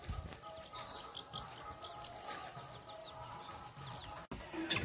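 A free-range country hen leads a large brood of chicks on a village poultry farm, giving soft repeated clucks among many thin, high chick peeps, fairly faint and steady throughout.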